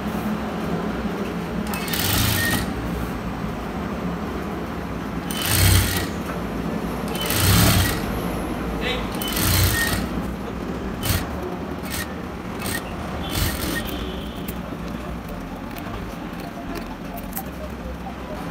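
A sewing machine stitches the cross piece onto a chudidar neck in bursts of rhythmic whirring, broken by pauses and cloth handling, with a voice talking throughout.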